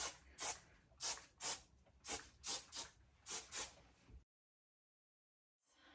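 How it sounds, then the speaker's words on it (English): Hairspray misted onto short pixie-cut hair from an aerosol can in about ten quick bursts, each a sharp hiss, followed by silence. "So I'm gonna hit it with just a little bit of some hairspray here."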